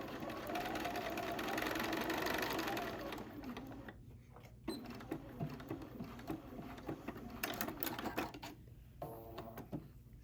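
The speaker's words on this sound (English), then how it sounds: "we're just going to sew these little outside petals together" A sewing machine stitches hexagon pincushion petals together, a steady motor whir for a few seconds that then breaks into short bursts and pauses.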